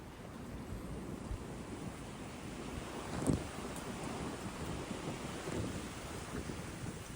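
Wind gusting across an outdoor disc golf course at a collegiate tournament, a steady broadband rush with a brief louder gust near the middle, no voices.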